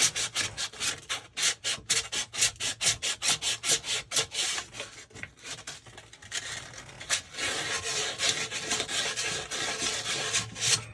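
Metal pipes being sanded by hand with 400-grit sandpaper near a leaking hot water heater: rapid rhythmic back-and-forth rasping strokes, close and clear, with a slower, more continuous scrubbing in the second half and no talking.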